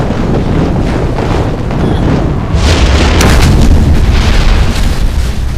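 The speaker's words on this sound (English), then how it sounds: "that is the Meteor spell" Meteor spell explosion in the video game Kingdoms of Amalur: a roaring, wind-like rumble that swells into a louder booming blast halfway through, then sustains with crackling debris.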